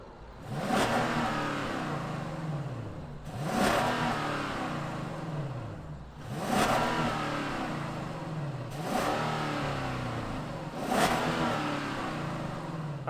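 A Genesis G90 Ultimate sedan's 5-liter V8 is revved repeatedly, five or so rising swells of engine roar with brief dips between, steady and fairly close with no talking.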